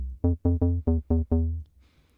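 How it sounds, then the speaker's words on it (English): The Sylenth1 preset Bass 2, shaped as a mid bass in FL Studio, plays six short punchy notes in an even rhythm, followed by a brief fading tail, alone with no talking. "I've sound designed this next one to be suitable for a mid bass."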